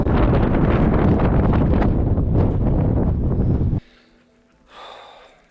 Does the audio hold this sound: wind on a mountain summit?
yes